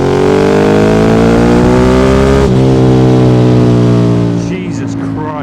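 Ducati 848 sport motorcycle engine revving hard under acceleration, a loud, close, raw roar with rising pitch that shifts gear midway, then eases off slightly near the end.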